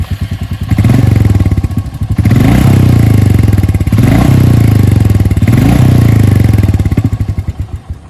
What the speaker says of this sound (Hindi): बट ट्रस्ट मी, ये फुल्ली एग्जॉस्ट नोट पूरा स्टॉक है।